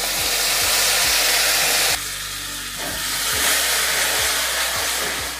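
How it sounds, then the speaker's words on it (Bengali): Tomato paste hits hot oil and frying spices in a pan for ghugni, giving a loud continuous sizzling hiss with soft regular low knocks underneath. The hiss dips briefly, then swells again, and no one speaks. "এবার এখানে আমি টমেটো পেস্ট দেবো।"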